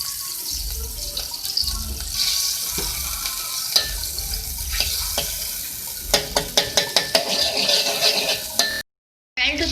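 Three tablespoons of butter melt in a pan for a white sauce, giving a soft, steady sizzle while a spoon stirs it. A quick run of sharp clicks comes from the utensil knocking against the pan near the end.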